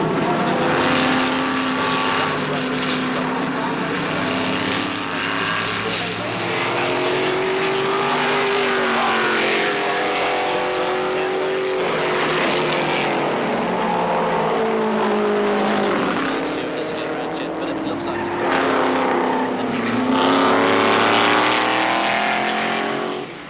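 A Corvette C4 ZR-1 race car at Lime Rock in the IMSA Supercar Series roars steadily with its big engine, a loud, sustained drone with rising and falling pitch as it accelerates and shifts, heard close without talk.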